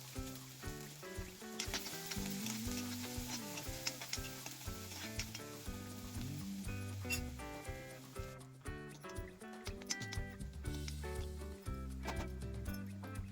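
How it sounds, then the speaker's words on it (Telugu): Green chillies and onions fry in oil in a kadai for a batani chaat, giving a faint, steady sizzle beneath louder background music, with occasional stirring sounds and no speech. "ఒక కడాయి పెట్టేసుకొని అందులో కొంచెం ఆయిల్ వేసి కొంచెం పచ్చిమిర్చి అండ్ ఆనియన్స్ కట్ చేసుకొని ఫ్రై చేసుకోవాలి"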